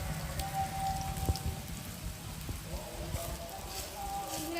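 Egg and potato fritters fry in oil with a constant crackling, spattering sizzle, close by and steady at moderate volume, with no talking.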